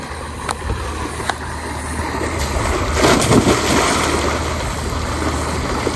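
Someone jumps into the water at a tubewell beside an irrigated millet field, making one rushing splash midway over a constant bed of flowing water.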